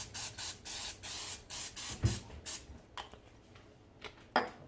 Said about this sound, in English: I'm going to spray this with a little nonstick cooking spray.